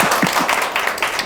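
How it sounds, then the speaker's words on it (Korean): Brief burst of audience applause at a youth talk show in Korea, many hands clapping together at close range in a short, lively spell. "박수 한번 다시 드릴까요?"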